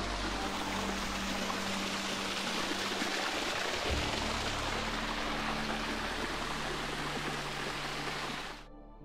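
Small waterfall in the hills of Tuscany after a night of rain, a steady broadband rush of falling water close by, continuous and even, fading out at the very end.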